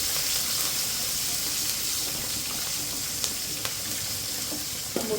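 Green chillies and sesame seeds sizzle in hot tempering oil, making a continuous close crackling hiss with a few faint clinks toward the end.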